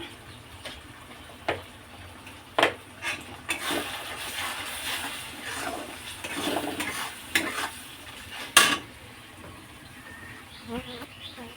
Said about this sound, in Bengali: ধনে গুঁড়ো মশলাটাকে খুব ভালো করে কষে নিতে হবে